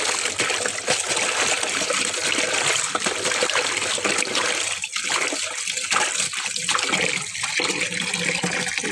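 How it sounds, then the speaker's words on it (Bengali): Bottle gourd leaves being washed in water, with steady trickling and splashing that continues for the whole stretch, close by and fairly loud, with no talking. "এখন পাতাগুলো ধুয়ে"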